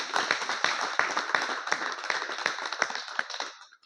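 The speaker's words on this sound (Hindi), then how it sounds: "जोरदार तालियां बजनी चाहिए" Dense clapping from a crowd, sustained and even for several seconds before tapering off at the end.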